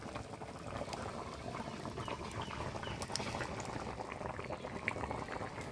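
Meat and potato curry boiling in a pot after water is added, a continuous close bubbling and gurgling with small pops and spatters scattered throughout.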